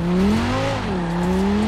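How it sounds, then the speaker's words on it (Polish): Car wheels spinning during a drift in Forza Horizon 4 on standard tyres, a loud steady tyre squeal over a droning engine, the pitch dipping and rising slightly as the slide continues. "Dobra, daję radę te koła ukręcić"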